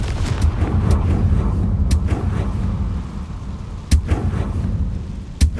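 Blasting-spell explosions go off in the Hogwarts Legacy video game: several sharp, loud booms stand out at separated moments over a dense, rumbling game soundscape.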